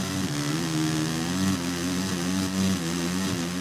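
Motocross motorcycle engine from the MXGP3 racing game, a steady buzzing drone with wavering pitch as the revs shift, loud and continuous with no talk.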